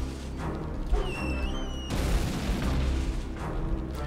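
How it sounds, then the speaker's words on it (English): Grenades going off in the video game Serious Sam 2, with a rising whistling tone before a loud booming burst and rolling rumble amid continuous game noise. "I love that the grenades, when they go out, they sound like a firework."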